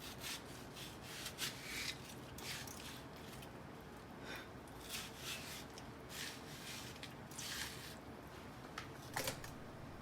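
A kitchen knife scores horizontal and perpendicular grid lines into a watermelon, making repeated close, scratchy rasping strokes in a steady rhythm.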